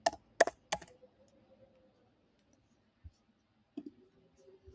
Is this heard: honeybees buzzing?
no